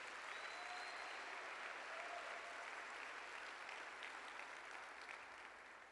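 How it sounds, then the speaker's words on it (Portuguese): A church congregation applauds together at a Sunday worship service, a broad, steady wash of clapping that holds for the whole stretch and eases slightly near the end, with no talking over it. "Dá um aplauso bem forte ao Senhor"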